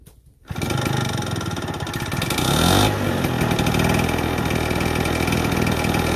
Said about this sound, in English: let's give it a pull on the rope starter